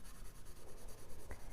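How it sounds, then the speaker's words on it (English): A soft 2B graphite pencil shades across drawing paper, giving a steady close scratching with rhythmic back-and-forth strokes and no talk. "These are the pencils you want to use for values and shading and modeling a form."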